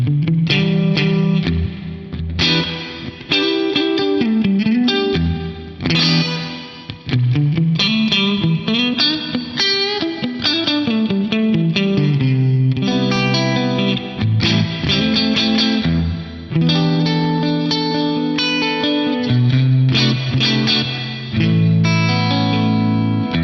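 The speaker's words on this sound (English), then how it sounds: "the South Church is just this glorious, deep sounding reverb" Distorted electric guitar played through an Axe-Fx III with medium spring and South Church reverbs stacked, chords and lead lines ringing out with deep, lush tails and chorus shimmer, loud and continuous with no talking.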